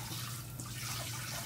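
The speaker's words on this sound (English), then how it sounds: "let me get the water in this cookie bowl before I have to keep scraping it." Tap water runs steadily into a cookie mixing bowl, a continuous broadband splashing rush with no talk.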